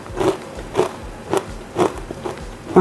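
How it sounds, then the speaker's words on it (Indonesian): Crunchy bites into super-crispy fried chicken made without cornstarch and topped with sauce, heard as five or six sharp crackling crunches at a steady chewing rhythm, close and fairly loud with no talk. "Dia tuh benar-benar super crispy, walaupun nggak pakai tepung maizena, tapi ini benar-benar kriuk banget"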